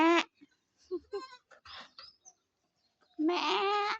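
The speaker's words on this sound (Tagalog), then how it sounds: "Itong farm ng boss namin, kambing. Lalaking mga kambing." Male goats on a farm bleat loudly, with a short bleat at the start and a longer bleat at the end, separated by quieter scattered calls and sounds.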